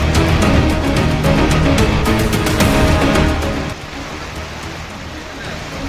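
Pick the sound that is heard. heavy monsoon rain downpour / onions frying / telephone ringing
heavy monsoon rain downpour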